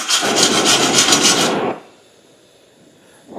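Steel wire brush scrubbing debris off a fresh weld on an IH Scout bumper, a loud rough rasping for about a second and a half before it stops, then near silence.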